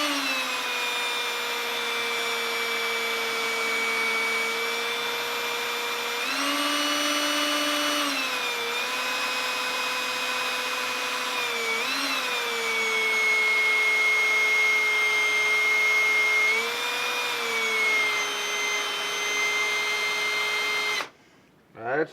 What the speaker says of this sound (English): And I'm going to drill all the way through everything,